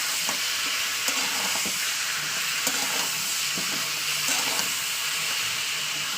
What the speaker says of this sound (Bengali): আমি তেলের উপর ভাজা করে নিই পেঁয়াজ সহ মাংস